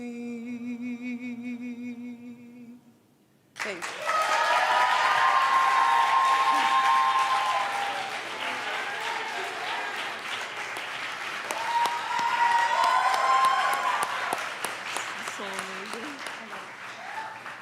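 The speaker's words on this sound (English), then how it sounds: "Another round of applause, please." Audience applause swelling after a reading at an open mic night, loud sustained clapping from a full room that dips and rises again, with cheers and talk mixed in after a brief quiet stretch.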